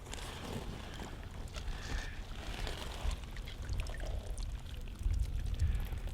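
A hooked carp thrashes at the surface at Holme Fen, churning water in continuous splashes and gurgles close to the microphone, with heavier bursts near the end.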